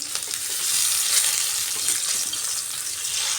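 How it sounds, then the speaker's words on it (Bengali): Eggs fry crisp in a pan of oil alongside a potato curry, a steady, fairly loud broadband sizzle and crackle that continues unbroken throughout. "একদিকটা তো কড়া করে ভাজা হয়ে গেছে এবার আরেক দিক উল্টে দিচ্ছি"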